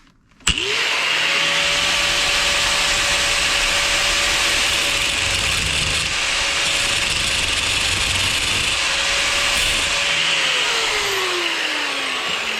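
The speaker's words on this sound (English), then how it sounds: "And then you need your grinder." Angle grinder cutting through a PEX crimp ring, a loud steady high-pitched whine that starts abruptly, holds unbroken for about ten seconds, then winds down as the disc slows.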